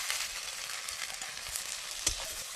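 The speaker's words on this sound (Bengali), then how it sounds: "ফোড়নটা একটু ভালো করে ভেজে নিলাম" Whole-spice tempering with cumin and asafoetida and a pea paste frying in mustard oil in a wok, a loud continuous sizzle with small pops and crackles and one sharper spit near the end.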